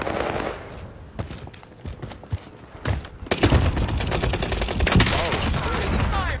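Gunfire rings out in a shooter video game: scattered single shots and thumps at first, then a dense, loud burst of rapid automatic fire, with voices talking over the action.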